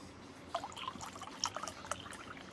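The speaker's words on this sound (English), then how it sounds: "I pour the water," Plain water pours and trickles into a container, a soft close splashing stream with small bright drips and gurgles, quiet and steady with no one speaking.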